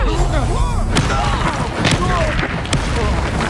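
A Bombarda blasting spell bursts with booming thumps and crackling impacts in a Harry Potter video game, punctuated by sharp hits, while voices speak over the action.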